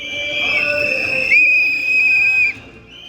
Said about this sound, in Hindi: गांव की गलियों में सीटी फूंकते ये कोई आम आदमी नहीं